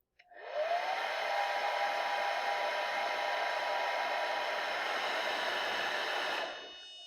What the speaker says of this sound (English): So take a hairdryer and warm it up